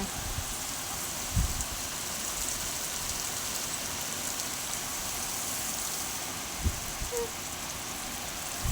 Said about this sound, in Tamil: அடிச்ச வெயிலுக்கு நல்லா மழை பெய்யுதுங்க